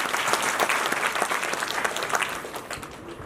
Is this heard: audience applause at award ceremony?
yes